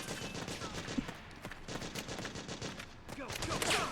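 Rapid bursts of shoot-gun fire in Metal Gear Solid 4: Guns of the Patriots, clattering close and fairly quiet, with a brief pause near the end as a wind-up noise rises.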